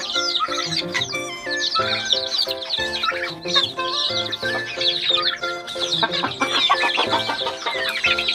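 Dense poultry chatter of turkeys and chicks, clucks and high peeping from many young birds at once, steady and close, with no talk.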